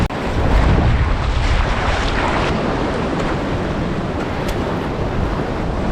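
Turbulent white-water surf churns against a rocky shore in Portugal, a loud, constant roar of breaking waves with gusty wind buffeting the microphone throughout.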